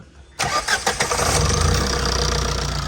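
A Tata truck diesel engine cranks and catches after an injector check in a workshop, a few quick starter chugs giving way to a loud, steady, close-up idle rumble.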